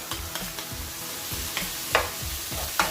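Bagoong being stirred into a sizzling pan of laing, a repeated scraping stir over steady frying hiss with a few sharper clinks, close and moderately loud, no voices.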